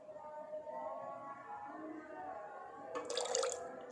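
Salt water is poured out in a short gush near the end, splashing loudly after a stretch of quiet room hum, while the silver-recovery setup for waste water sits nearby.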